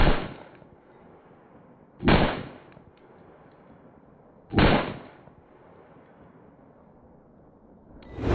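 Three loud, sharp pistol shots from a .40 S&W handgun firing Power Pistol powder test loads, spaced a couple of seconds apart and each followed by a short echoing decay, with no talking.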